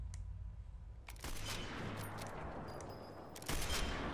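Gunfire in a shooter video game, loud bursts of shots with sharp cracks in a dense, noisy mix, the firing getting heavier toward the end, no talk.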